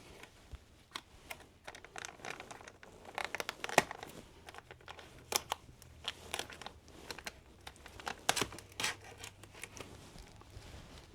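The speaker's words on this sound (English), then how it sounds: "I can't get this thing open, so I'm going to have to cut it open." Scissors cut into a sealed homemade MRE food pouch, giving faint irregular snips, crinkles and rustling of plastic packaging over several seconds.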